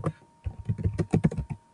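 Rapid keystrokes on a computer keyboard as a folder name is typed, a short burst of close, crisp clicks after a brief pause, with no talking.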